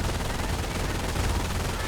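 MG42 machine gun fire in a World War II strategy video game forms a dense, continuous roar of rapid overlapping shots, steady and loud throughout with no voices.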